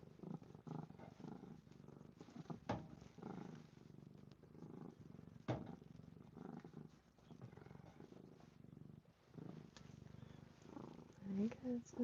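A kitten purrs up close in a steady low rumble that continues throughout, joined by soft rustles and a few faint clicks, with muffled talk near the end.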